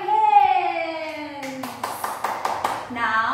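Young children in an online classroom clap their hands in a short burst of several quick claps after a voice speaks, then a voice follows.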